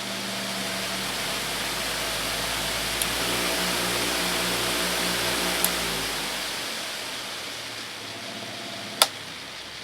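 A Princess Auto bench-mount variable speed buffer whirs at a raised speed, a smooth steady motor hum and airy rush with a pitch shift partway through and a few sharp ticks.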